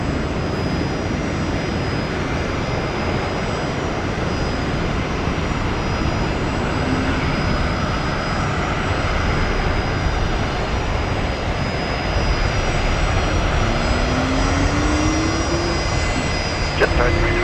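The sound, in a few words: jet airliner taking off from runway 19 left at Brisbane Airport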